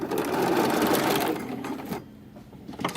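A sewing machine runs a seam near a pocket in one loud, steady whir, then slows and stops, leaving a few soft clicks.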